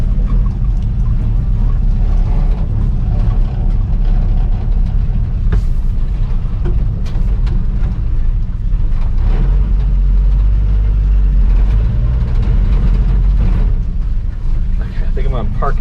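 A 1958 Chevy Apache pickup, back on the road after sitting for 20 years with its steering wheel off-center, drives along: a loud, constant low engine rumble and drivetrain drone with occasional clunks and rattles throughout.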